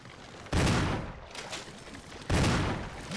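Gunfire in the Resident Evil HD Remaster video game: two loud, sharp shots about two seconds apart, each with a short booming tail, heard close with no talking.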